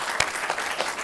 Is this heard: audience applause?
yes